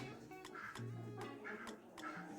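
Mother duck quacking near a nest of newly hatched ducklings, a few loud quacks in an uneven rhythm against a quiet background.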